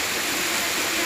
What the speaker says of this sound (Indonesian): mantap sekali air terjunnya